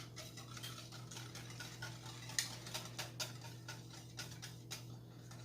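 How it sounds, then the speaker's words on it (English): A spoon stirs coconut cream pie filling in a pot over low heat, making faint, irregular clicks and light scrapes against the metal over a steady low hum. "bring to a boil over low heat and stirring constantly"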